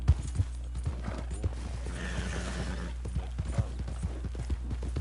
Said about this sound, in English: Um cavalo.